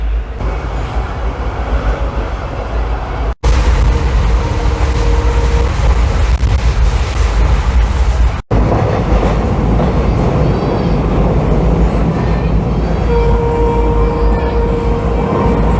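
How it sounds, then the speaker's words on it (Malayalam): A train moving slowly near Madgaon station on the Ernakulam to Pune route, giving a steady loud rumble with faint rattling of the carriages that runs continuously throughout. "ട്രെയിൻ മന്ദം നീങ്ങിക്കൊണ്ടിരിക്കുന്നു."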